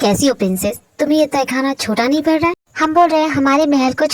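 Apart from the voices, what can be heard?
None of the usual background noises is heard.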